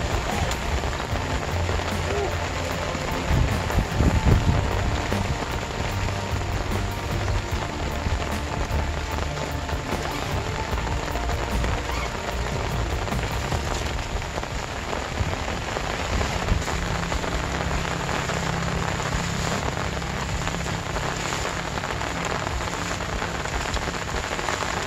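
Heavy rain pours steadily during a rainy-day fishing trip, a dense continuous hiss drumming on an umbrella and surfaces nearby, loud and unbroken throughout.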